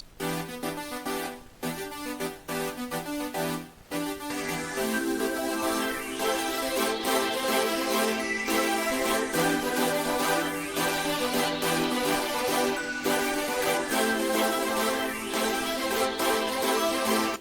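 Two layered saw-wave synth sounds, a plain saw with a little attack stacked on another saw, play sustained chords together in a dense, bright, continuous texture for the whole stretch, loud and steady without any talk.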